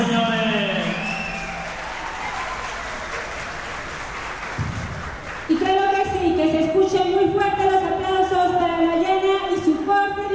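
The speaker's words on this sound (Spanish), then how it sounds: "Por favor, un gran aplauso." Audience applause at a family celebration, a steady wash of clapping at moderate level that gives way midway to loud music with singing.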